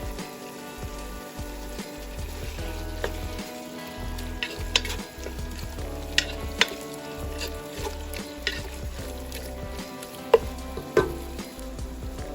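Chicken arroz caldo with fish sauce and ground black pepper sizzles steadily in a pot, with scattered clinks and stirring knocks over a constant frying hiss.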